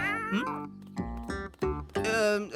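A cat meows close by, several drawn-out, wavering cries in a short burst, loud and clear with brief pauses between them.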